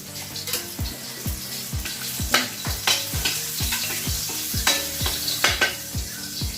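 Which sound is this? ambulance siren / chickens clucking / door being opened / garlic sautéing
garlic sautéing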